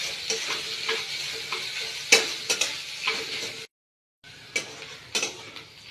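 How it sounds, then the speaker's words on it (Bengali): Chopped onion and green chili fry in a pan with a soft, close sizzle, punctuated by sharp spatula clicks and scrapes, a short silent break partway through, and no voices. "পেঁয়াজ কুচি আর লঙ্কা কুচিটা আমি খুব ভালো করে ভেজে নেব"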